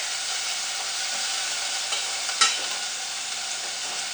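Shrimp frying in a pan for noodles gives a steady close sizzle with a brief louder spatter midway, no talking.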